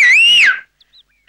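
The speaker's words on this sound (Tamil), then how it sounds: "விசில் அடிக்கணும்னா" A person whistles one loud, clear, gliding note that rises slightly and then falls away, followed by near silence with a few faint chirps.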